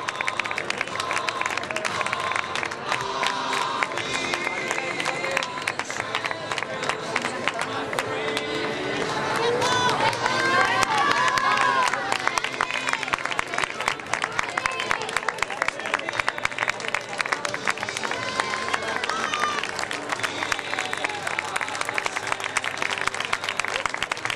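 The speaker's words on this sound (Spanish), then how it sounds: "Fortísimo y merecidísimo el aplauso de ellas tres." Dense, steady applause from a crowd honouring the three women winners at the 2017 Zaragoza half marathon trophy ceremony, sustained throughout and swelling near the middle, with some talking mixed in.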